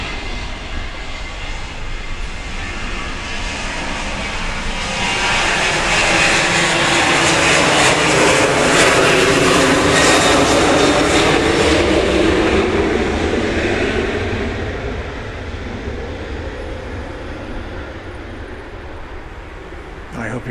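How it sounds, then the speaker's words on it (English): A plane taking off at Grand Cayman airport, its jet roar swelling to a loud, broad peak over about ten seconds before easing off but staying present. "I hope you're appreciating the stereo sounds of planes taking off and landing."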